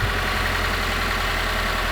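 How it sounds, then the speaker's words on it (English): A turbocharged Subaru boxer engine with dual exhaust idles steadily, a low, even rumble with a smooth burbling pulse, close and loud throughout with no voices. "now it's a turbo and it's got dual exhaust. So, unlike the kind of strange noises that most Subarus make, this one makes a rather pleasing sound."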